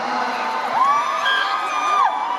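Concert crowd cheering at a live K-pop showcase, a steady wash of high-pitched screams and whoops held at a constant level, with one sustained shrill voice rising above the mass.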